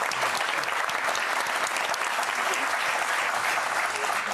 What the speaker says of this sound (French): donc on applaudit les moules quand même